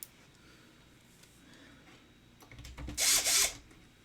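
A Snap-on electric screwdriver drives power supply screws into a PC case, a brief close whirring burst of about a second near the end after faint handling noises.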